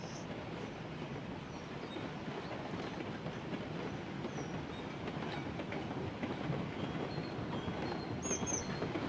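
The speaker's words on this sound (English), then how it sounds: "as the train comes through." A train rolls past in the Railroads Online video game, a steady rumbling clatter of wheels on track that builds slightly toward the end, with faint high squeals near the close.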